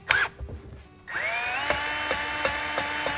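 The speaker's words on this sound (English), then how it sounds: "a drill motor, stick it on there." Drill motor spinning a valve lapping tool on an engine valve: a few brief knocks, then a steady high whirring motor hum with faint rhythmic ticks, close and alone.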